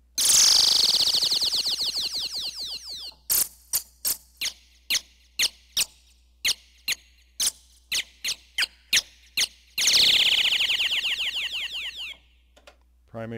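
An Oberheim OB-8 synthesizer patch imitating birds: a loud, close falling chirp-sweep, then a series of sharp, rapid electronic tweets in a steady pattern, and another sweeping chirp near the end, with no talking.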